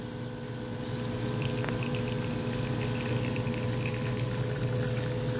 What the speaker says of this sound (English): Man, look at that coffee pour.